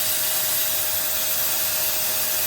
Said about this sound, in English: Vacuuming the winding.